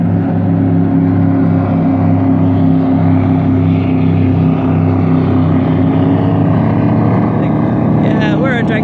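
A loud drag boat engine drones with a deep, throbbing rumble, holding steady and then shifting pitch as the boat goes by close.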